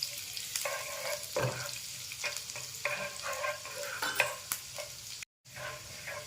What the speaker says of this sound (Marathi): त्यामध्ये आपल्याला घेतलेला बारीक चिरून घेतलेला जो लसूण आहे तो टाकायचा आहे चमचा त्याला सोनेरी रंग येऊपर्यंत असा परतून घ्यायचा आहे